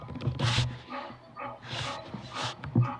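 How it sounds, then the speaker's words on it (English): A dog barks and yips several times indoors at moderate distance, short sharp bursts mixed with whimpering, somewhat faint in the room. "Does somebody have a dog? Is that what that noise is?"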